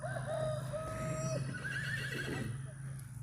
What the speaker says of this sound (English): And there's the other horses. They start neighing.